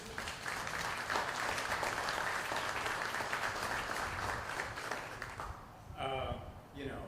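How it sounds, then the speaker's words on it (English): An audience at a Broadway in Hawaii event applauds in a steady, dense wash of clapping that holds for several seconds, then fades as a voice begins speaking near the end. "How about a round of applause for Bruce?"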